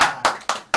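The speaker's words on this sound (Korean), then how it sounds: "박수 한번 칩시다." Four crisp hand claps in quick succession, close and fairly loud, from a group at a Korean chicken-eating after-party stream, with no speech over them.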